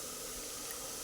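Soaked masoor dal with a spoonful of moong dal and its water pours into a pressure cooker, a steady close splashing, running flow lasting about a second with no voices.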